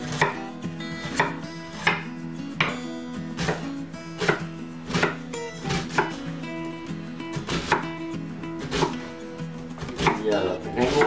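An onion chopped into small pieces with a knife on a board, sharp regular knocks in a steady rhythm over about a dozen strokes, close up and clear.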